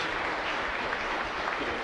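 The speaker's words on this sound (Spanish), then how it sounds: "Fuerte aplauso entonces, queridos hermanos," A congregation claps steadily at Mass in a parish church for the feast of the Baptism of the Lord, a soft, even wash of applause with no pauses and no other sounds.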